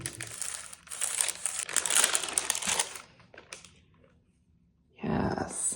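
Deli paper is handled and pressed on a gel printing plate, giving about three seconds of loud, close crinkling and rustling, then a short quiet pause before another burst of crinkling.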